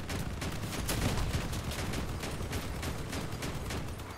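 Vehicle-mounted guns firing in the Crossout combat game, a rapid fusillade of repeated shots heard at moderate distance, continuous bursts throughout with no talking.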